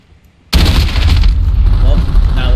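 Gunfire in a video game gun game mode, opening abruptly after a brief quiet with a loud, dense burst of rapid shots and booms that continues to the end.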